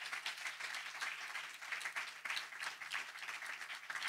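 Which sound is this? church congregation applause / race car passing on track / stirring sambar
church congregation applause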